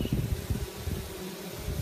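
A close, steady buzzing hum of many honeybees fanning at the entrance of a top bar hive, continuous and moderately loud, with no voices.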